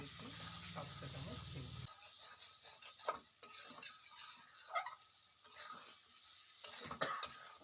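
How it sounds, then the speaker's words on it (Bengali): Fried potatoes and peas are sautéed and stirred in a pan with spices, soft scraping and clinking of a spatula over a quiet sizzle, faint and intermittent with a low hum at the start. "এই আলুগুলোকে দিয়েও আমি আরও কিছুক্ষণ কষিয়ে নেব"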